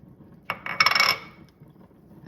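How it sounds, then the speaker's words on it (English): Onion and garlic go into a skillet with a teaspoon of hot oil over medium heat, making a brief burst of clattering and light clinking in a quiet kitchen, then fading out. "Now I'm going to add my onion and my garlic"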